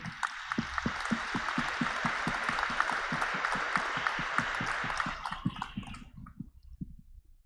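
An audience applauds in a steady, moderately distant round of clapping with distinct individual claps, which fades out over the last couple of seconds.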